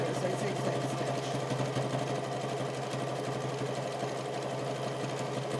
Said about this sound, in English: I'm on my second round of zigzag stitching.